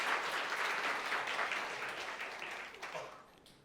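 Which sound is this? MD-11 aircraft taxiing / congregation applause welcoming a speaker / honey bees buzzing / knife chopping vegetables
congregation applause welcoming a speaker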